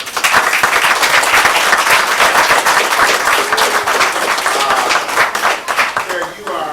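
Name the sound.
round of applause for Carrick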